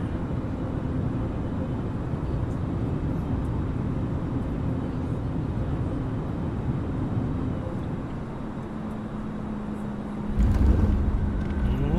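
Airbus A320neo touchdown in Microsoft Flight Simulator 2024, steady engine and airflow roar for most of the clip, then a sudden louder thump and rumble near the end as the wheels meet the runway.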